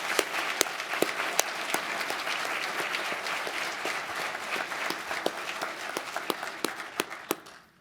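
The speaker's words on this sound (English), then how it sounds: "Let's give the Steel Founders Society a round of applause." An audience at a steel casting awards ceremony breaks into steady, full applause with sharp individual claps standing out, sustained for several seconds before fading out at the end.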